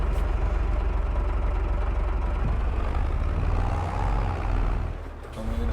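A tractor engine idles steadily in Farming Simulator 22, a continuous low, even rumble that holds close and loud throughout with only slight dips near the end.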